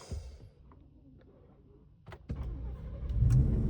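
A 2024 Ford F-150 Raptor pickup with a Ford Performance ProCal tune cranks briefly and then catches, its engine rising to a loud, steady idle near the end after a quiet pause with light clicks.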